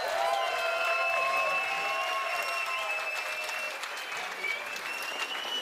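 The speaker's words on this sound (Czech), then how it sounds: "já bych ještě jednou poprosil velký potlesk pro Michala" Sustained applause from a crowd at a live Elden Ring gaming show, a dense wash of clapping that stays loud and gradually thins a little toward the end.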